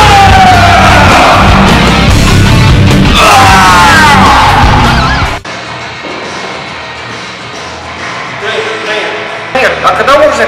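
Loud, strained yelling and screaming in a weightlifting gym, long harsh bellowing cries for several seconds before dropping to quieter sounds, with more short shouts near the end.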